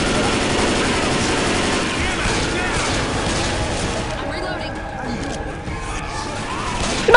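Sustained, dense gunfire from multiple players shooting the Witch in Left 4 Dead 2, loud and continuous with rapid overlapping shots throughout, mixed with game noise.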